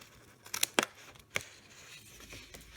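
Scissors cut a corner off a cheap binder's cover, several sharp snips and a tearing crinkle of the material, close and distinct against quiet, no speech.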